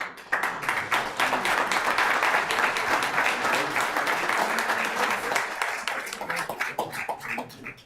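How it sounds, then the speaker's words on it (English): A round of applause at a town council meeting, many hands clapping in a dense, lively burst that stays strong for several seconds, then thins into scattered individual claps near the end. "another round of applause for these"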